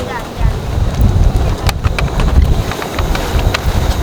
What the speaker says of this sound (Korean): 오 바람 분다.